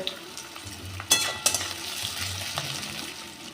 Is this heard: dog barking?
no